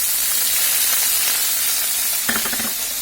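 Chopped onions, fried until nearly red, sizzle steadily in a pan as small dried shrimp go in for a snake gourd dish. A loud, continuous hiss of frying runs throughout, with a brief clatter of stirring near the end and no talking.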